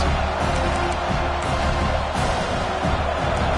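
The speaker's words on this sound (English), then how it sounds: "This crowd, full throat, spreading the eardrums and letting them know it's going to be a long day." A stadium crowd at a college football game roars in a dense, continuous wall of cheering with scattered whoops. The crowd stays loud and steady throughout.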